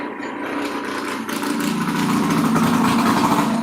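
A motorbike engine rumbles loudly nearby, its idle swelling into a stronger, rougher revving that holds steady to the end.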